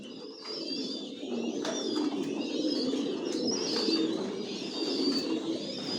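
Racing pigeons in a loft, soft overlapping low coos repeating close by, with thin chirps and occasional wing flutters above them, steady and unbroken without speech.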